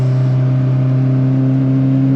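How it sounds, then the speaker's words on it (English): A rebuilt BMW 02 track car's engine holds a steady, loud, droning hum with strong low harmonics, heard up close with no talking. "then you can hear the engine, the trumpets."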